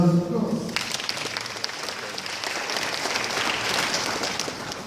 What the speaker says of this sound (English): So please thank them again for us by giving them another round of applause.